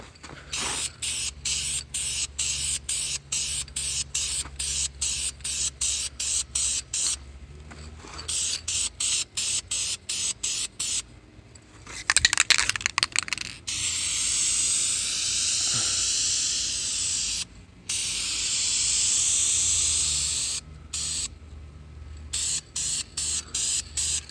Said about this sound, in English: That's actually where I've missed on paint, which it'll fill in quite nicely once you get to doing a heavier coat.